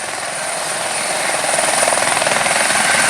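Police helicopter taking off, a steady whining turbine with rapid rotor thumping that swells louder over a few seconds, heard from a short distance.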